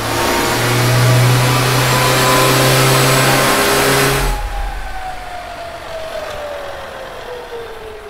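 Rebuilt car gearbox running, heard from below the car on a lift: a loud, steady mechanical whine with an engine drone that drops sharply halfway through, leaving a quieter hum with a faint falling whistle.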